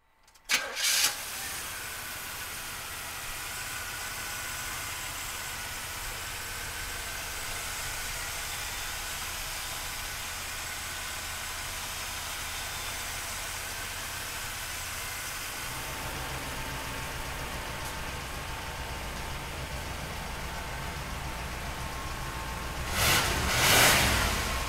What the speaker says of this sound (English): we're gonna fire this Buick up for you right now